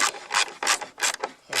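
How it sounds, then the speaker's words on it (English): A socket bar ratchets a bolt tight on a Tiger Moth aircraft, giving close, rasping back-and-forth strokes in quick repeated bursts. "Go get the socket bar. And we tighten up this section of it."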